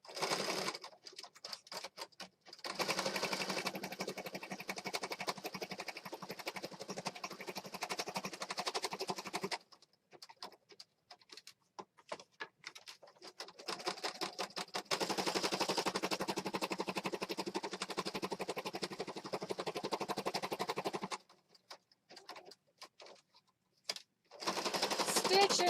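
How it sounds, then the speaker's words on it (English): A sewing machine stitches paper pocket journals in long, loud runs of rapid rattling, broken by short pauses while the presser foot is lifted and the work is turned, then resumes stitching. "I'll just raise my presser foot and swing this around and keep stitching."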